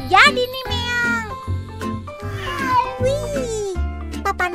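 Cartoon cat meowing in a children's animated cooking show, several short high, bright meows in quick succession, close and clear, with a cheerful child-like voice quality throughout.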